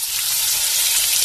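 Loud, continuous sizzling of food frying in hot oil, a dense crackling hiss that stays steady and close throughout with no voices.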